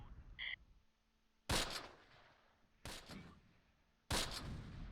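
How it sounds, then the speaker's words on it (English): Rifle fire in the WWII tactical game Close Combat, three separate loud cracks spaced about a second and a half apart, each with a brief rumbling tail, over a quiet background with a faint short electronic chirp at the start. "More rifle fire."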